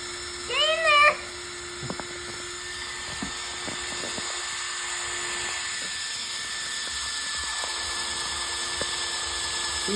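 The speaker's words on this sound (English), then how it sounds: "it's a drill!" An electric drill runs during a repair on a broken toy helicopter, giving a faint, steady motor whine that holds throughout, while a few brief squeaky sounds and voices are heard early on.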